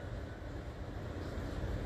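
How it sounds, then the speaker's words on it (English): Inside a bullet train running from Mecca to Medina, a steady, fairly quiet broadband rumble and whoosh of travel goes on without a break and without voices. "the bullet train is waiting for us."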